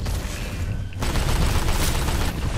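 Dense gunfire in the video game Titanfall 2, a continuous rattling barrage that briefly drops off and then returns louder, close and without talk.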